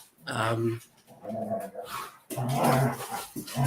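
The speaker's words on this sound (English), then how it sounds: "Sorry, my dogs are now fighting." Dogs growling and scuffling in a home kitchen, one of them a poodle-cross doodle type, with rough vocal snarls in bursts across the clip, close and fairly loud.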